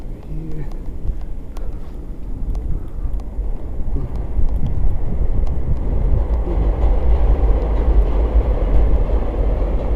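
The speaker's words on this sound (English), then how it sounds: "this is the train on Roosevelt just ahead of us" An elevated train rumbles past on Roosevelt Avenue in Elmhurst, Queens, a steady loud low roar building over several seconds with wind noise, while a person talks outdoors.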